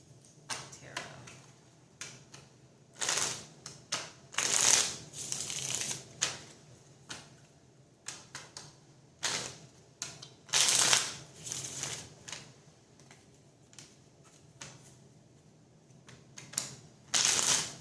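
Tarot cards are shuffled in repeated short riffling bursts, close and crisp, separated by quieter pauses with faint background murmur.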